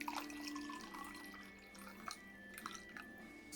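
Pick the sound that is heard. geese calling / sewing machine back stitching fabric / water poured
water poured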